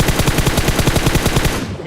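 Rapid automatic gunfire rattles in PUBG Mobile, a loud, close, evenly spaced burst of around a dozen shots lasting under two seconds before cutting off.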